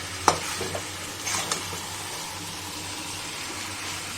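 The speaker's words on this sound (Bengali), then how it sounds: "এবার দেখো মিশিয়ে দিচ্ছি।" Vegetables such as pumpkin stems and peas being stirred in a pan, a sharp scrape near the start and a few soft scuffs over a steady low sizzle, close by with no talking.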